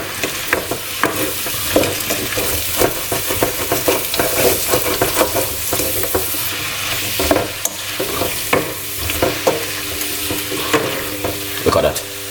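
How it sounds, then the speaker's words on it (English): A pot of seafood soup sizzles steadily while being stirred, with repeated scraping strokes of the spoon over a constant frying hiss, close and fairly loud with no talk. "Give it a stir."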